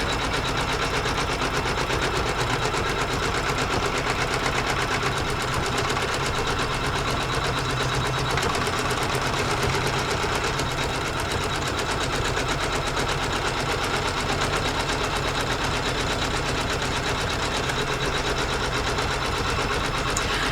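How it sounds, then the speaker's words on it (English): A sewing machine runs steadily at low speed, stitching a large applique shape for a quilt block, with an even mechanical hum and rapid needle clatter that stays constant and close throughout. "I'm stitching on a relatively low speed today"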